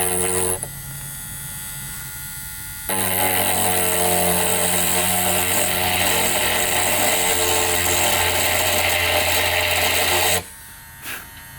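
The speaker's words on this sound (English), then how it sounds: "All right, so I got my Carbide bit. Let's get drilling." A steady, loud electric drill with a carbide bit whines almost continuously as it drills tempered glass, with a brief quieter start and a stop near the end.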